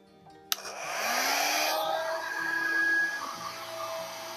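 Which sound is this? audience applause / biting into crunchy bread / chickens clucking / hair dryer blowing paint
hair dryer blowing paint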